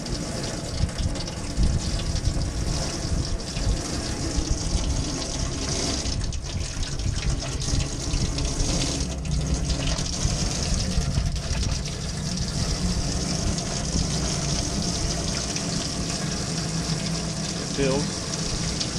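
A pump gushes water steadily into a boat's live well, a continuous rushing wash that runs throughout with no breaks.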